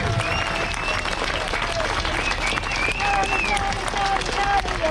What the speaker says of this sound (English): give a clap for Tommy